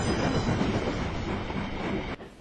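An austerity steam tank engine shunting coaches in a yard rolls along with a steady rumble of wheels on rails, fairly close, before the sound drops away abruptly near the end.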